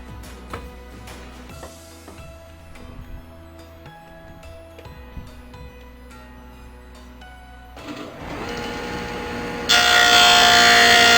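A power tool cuts wooden tenons for an assembly table: a steady mechanical hum with rhythmic rubbing and knocking, then a rising whine that ends in a loud, harsh cutting roar in the final seconds.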